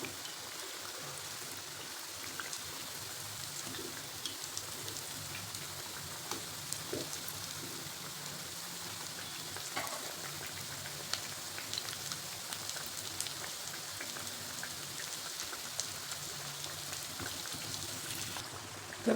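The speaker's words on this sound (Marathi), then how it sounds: "तर मस्त असे आता डाळ वडे तळत आलेले आहेत." Dal vadas, crisp lentil fritters, deep-frying in oil over a medium flame: a steady, even crackle and fizz of bubbling oil running throughout, close and moderately loud, with no talking.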